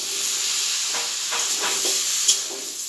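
Potatoes and tomatoes frying together in a spiced masala for a thin drumstick curry, producing a loud, steady steamy hiss with soft stirring scrapes and one brief sharp crackle near the end; no one speaks.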